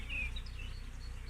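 Honey bees buzz loudly and close during a hive inspection as they are shaken off a frame into a brood box, a dense, agitated drone with higher whining wingbeats over it.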